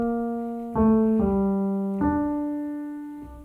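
Solo piano playing a short melodic motif, three or four clear sustained notes struck in a slow, gentle phrase and left to ring and decay, close and alone.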